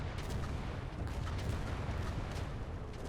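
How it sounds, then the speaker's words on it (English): Artillery fires in the video game Indomitus 40K Conquest as a dense, continuous rumble of overlapping booms and blasts, loud and unbroken, with no voices. "The artillery is doing a good job"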